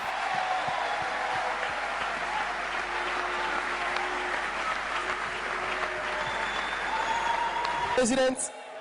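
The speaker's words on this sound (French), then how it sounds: "Est-ce qu'on peut bien applaudir pour le président de la REC?" An audience at a pan-African congress applauds the president of the REC, steady dense clapping from a crowd held for several seconds before a brief clatter at the end.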